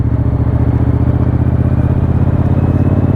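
A Triumph Bobber 1200cc motorcycle engine thrums loud and close in a steady, deep, pulsing rhythm under a bridge and through a roundabout, with no voices.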